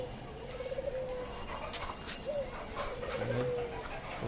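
Pet birds in a home aviary at dusk give several soft, drawn-out cooing calls, spaced a second or so apart, over a steady background hiss.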